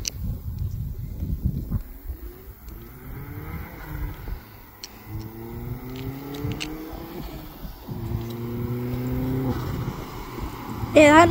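A Vauxhall Astra VXR engine revving in repeated rising pulls, each climbing then dropping back, heard at a moderate distance with wind noise, ending in a sharp high squeal.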